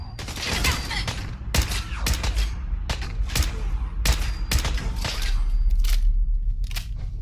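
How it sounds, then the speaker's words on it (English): Gunfire rings out in Fallout 4, loud sharp shots fired in quick irregular bursts over a constant low rumble of game ambience, with some pops closer and heavier than others. "Who's even shooting at me?"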